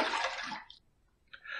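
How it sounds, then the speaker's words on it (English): Water runs briefly from a tap as a Rockwell T2 gunmetal safety razor is rinsed after a shaving pass, a broad close splash that cuts off, followed by a short second burst of flow. "Let's rinse."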